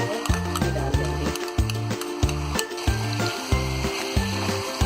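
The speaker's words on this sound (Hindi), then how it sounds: "अब हम इसमें डाल देंगे नारियल, खसखस और मगज का जो हमने पेस्ट बनाया है डाल देंगे।" A paste of coconut, poppy seeds and melon seeds going into a pan of fried tomatoes for chicken korma, giving soft repeated squishy thuds and wet scraping in a steady rhythm under a faint sizzle.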